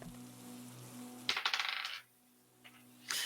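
Dice clatter and tumble across a table for a tabletop horror game's sanity roll, a quick burst of rattling hits that settle, then a brief second clatter, close and fairly loud with no talk.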